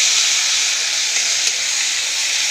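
Ginger paste fries in a curry pan with a loud, steady hiss and sizzle, close by and continuous, with faint spattering pops over the top.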